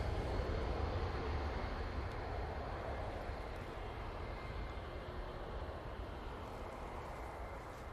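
A Ryanair airliner arriving at Manchester Airport makes a soft, distant engine rumble that starts a little stronger and slowly fades over several seconds, with no voices.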